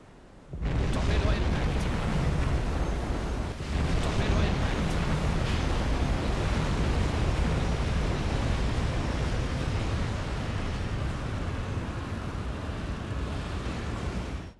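Torpedo hits exploding against a ship in the submarine game Silent Hunter 5, a heavy, sustained roar of blast and rumbling water that fills the whole stretch with one brief dip partway through.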